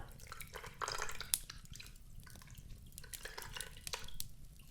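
Faint water drips and small splashes sound while wounds are being cleaned with water, scattered irregularly against a quiet background.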